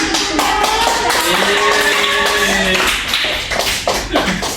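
Classroom students clapping during a geography teaching lesson, a close, loud run of hand claps with sung or voiced tones weaving through, ending in scattered claps.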